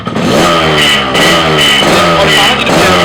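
Yamaha RX King two-stroke motorcycle with stock exhaust revved hard and close, the engine rising and falling through a few loud throttle blips with a rough, rattling tone.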